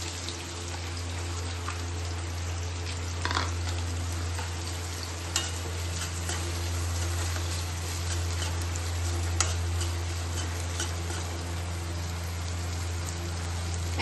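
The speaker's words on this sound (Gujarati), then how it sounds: "તો હવે આપણે આ ડુંગળી જે છે એ આમાં નાખી દઈશું તેલમાં" Onion for paneer chilli fries in hot oil, a steady, even crackling sizzle with a few light clicks, under a constant low hum and with no talking.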